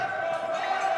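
The home crowd of the Prairie Pilots rises in a sustained roar at a women's futsal match against the Burman Bobcats, a steady wash of cheering voices filling the gym with no single voice standing out.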